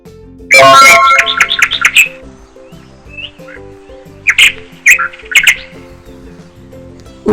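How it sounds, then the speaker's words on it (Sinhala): Birds chirp in the morning in loud, close bursts of rapid tweets and squawks, separated by quieter gaps over a soft tonal background. "කුරුල්ලන් කූඩුවලින් එළියට ආවා. ඔවුන් කෑම සොයාගෙන පියෑඹුවා. කීචි බීචි නාදය හැම තැනම"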